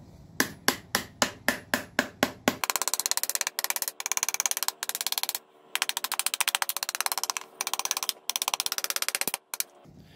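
Light hammer taps on an antique forge blower: a quick series of close metallic knocks, followed by dense, rapid rattling bursts broken by short gaps.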